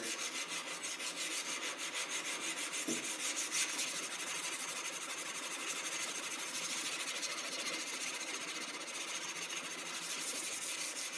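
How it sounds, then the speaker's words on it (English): Steady, continuous scratchy rubbing of abrasive against a steel chef knife blade secured to wood, hand sanding, a fast even back-and-forth rasp that continues without pause, close and fairly quiet. "First order of business when sanding is just to take out all of the scratches from the grinder."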